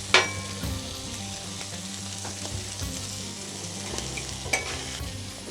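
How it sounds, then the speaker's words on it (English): Fresh oil mixed with bacon grease crackles and sizzles on a flat-top griddle, a steady close hiss with a few sharp scraping and stirring clicks, and no talking. "Get some fresh oil mixed in with that bacon grease."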